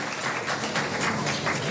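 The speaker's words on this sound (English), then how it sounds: "Give yourselves a round of applause for being here" A crowd at a cabinet ministers' swearing-in ceremony applauds with a dense, steady patter of clapping that continues throughout the short moment.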